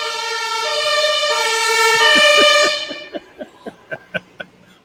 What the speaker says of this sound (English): But here comes the European ambulance.